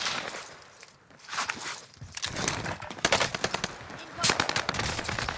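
Bursts of rapid automatic gunfire in a first-person shooter game, loud cracks and rattling volleys spread across the clip with footsteps between them.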